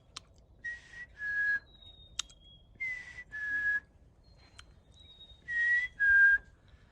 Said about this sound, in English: Do you hear the black-capped chickadees?